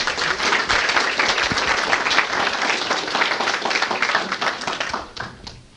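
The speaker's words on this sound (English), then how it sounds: "let's give him a little round of applause as he comes up" An audience claps for a speaker coming up to give a talk, a dense round of applause that stays strong, then thins and fades out near the end.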